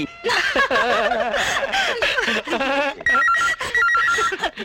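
A telephone rings with a warbling electronic trill over laughter and chuckling voices, loud and close.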